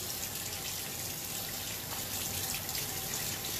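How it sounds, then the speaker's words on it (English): Warm tap water runs steadily from a faucet as hands are rinsed, a close, even hiss and splash lasting throughout with no talking. "I'm gonna start with some warm water on my hands."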